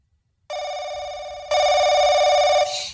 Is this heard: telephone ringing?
yes